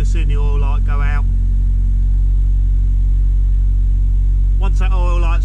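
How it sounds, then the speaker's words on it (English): Classic Mini engine idling in neutral in a workshop after sitting unused, a loud steady low rumble with a high squealing fan belt whining in two bursts at the start and again near the end. "Bit of a squealy fan belt because it hasn't started up for a while"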